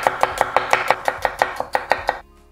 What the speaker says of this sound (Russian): Берем морковочку, нарезаем тонкими слайсами.